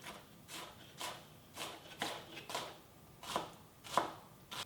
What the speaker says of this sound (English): and we start chopping.